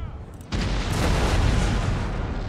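A cannon battery fires in the strategy game Empire: Total War, one sharp onset followed by a broad, loud rumbling roar of overlapping booms that sustains to the end.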